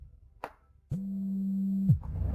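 A phone rings in an office during a business meeting, sounding as a single sustained electronic tone lasting about a second, preceded by a soft click, in a quiet room.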